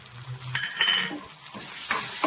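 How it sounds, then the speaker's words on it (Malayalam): Onions fried golden sizzle in a pan as tomato is added for a North Indian dal curry, with a spoon scraping and stirring in short bursts over a steady close hiss. "നമുക്കിനി ഇതിലേക്ക് തക്കാളി കൂടി ചേർത്ത് വഴറ്റിയെടുക്കാം"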